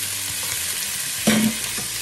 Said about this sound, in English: And saute it for like 2 minutes or so. Keep on stirring.